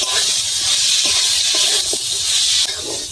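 Spice masala stir-fried in a pan for a banana flower and prawn curry, loud bright steady sizzling hiss close up, with faint scraping stirs underneath.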